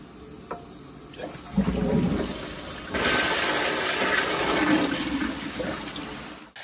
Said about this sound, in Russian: С помощью USB-кабеля там модернизировали систему слива для унитаза